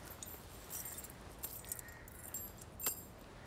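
A bunch of keys jangles in scattered metallic bursts while someone tries them in a stuck lock, close and fairly quiet, with no talking.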